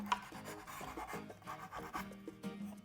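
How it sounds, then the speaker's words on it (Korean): A wooden book stand is hand-sanded with sandpaper in a woodworking class, giving steady rhythmic rasping strokes, close and fairly quiet, with no talk. "이렇게 만져보면서 손에 거슬리는 부분은 다 갈아낼 거예요."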